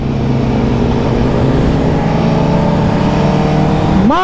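A superbike engine drones loudly at a steady pitch while the rider lifts into a wheelie, then the revs sweep sharply upward at the end. The sound is close and continuous.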